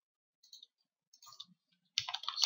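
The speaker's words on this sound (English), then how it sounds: "When we click this button" A few quiet, crisp mouse clicks on a software button, spaced apart in a silent room, with a slightly louder burst of clicking at the end.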